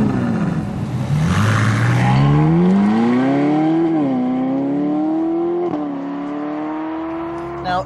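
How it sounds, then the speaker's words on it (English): Ferrari California's 4.3-litre V8, borrowed from the F430, starts with a rasp and revs up and down in rising and falling sweeps, loud and close, then settles into a steady idle with a brief blip near the end. "the glorious flare of power released by pressing the big red button on the steering wheel"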